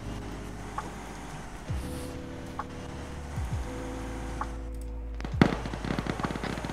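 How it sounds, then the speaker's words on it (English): Thunder-like rumbling from a distant castle in a military shooter game: several low, booming thuds spaced a couple of seconds apart over a steady engine hum, the last boom the loudest. "that sound of thunder is coming from the direction of the castle"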